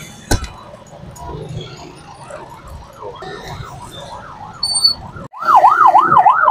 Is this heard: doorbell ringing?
no